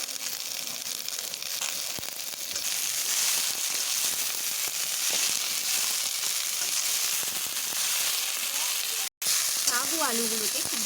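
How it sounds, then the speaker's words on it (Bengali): Dhenki fern greens and potato frying together in a pan give a close, steady, dense sizzle with some stirring. A short silent gap breaks it near the end. "এবার শাক ও আলুটাকে একসঙ্গে ভেজে নেব।"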